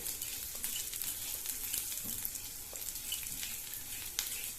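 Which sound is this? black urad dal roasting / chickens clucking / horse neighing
black urad dal roasting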